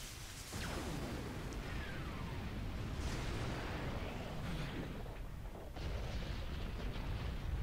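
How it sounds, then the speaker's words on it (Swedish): A powerful blast shot in the video game Asura's Wrath booms and rolls out under a dense, roaring background, followed by more rumbling bursts. "Det var ett mäktigt skott."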